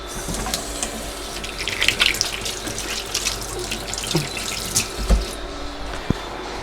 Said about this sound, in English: now just wash my hand